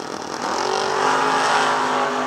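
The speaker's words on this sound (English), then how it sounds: "Battle between the Chevrolet Camaros." Chevrolet Camaro drag race cars roar in a steady, loud engine drone at a drag strip, the pitch holding high as the revs hold, with no talk over it.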